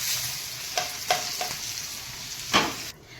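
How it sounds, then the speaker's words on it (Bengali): Small fish (chuno and morola) already fried together sizzle steadily in a hot pan, with a few sharp scraping or tipping clatters as they are poured in. A louder splash of sizzle near the end, then quiet. "আমার চুনো মাছটা মোরলা মাছগুলো সব একসঙ্গে ভাজা হয়ে গেছে এটা ঢেলে দেবো"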